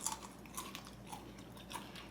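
Someone chews carnivore crisps made of meat, soft repeated crunches close to the mouth at a faint level, with no talking.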